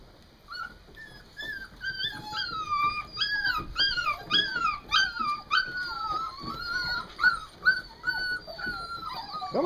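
A young puppy whimpers and yips in high, wavering cries, repeated steadily and close, while learning to climb steps.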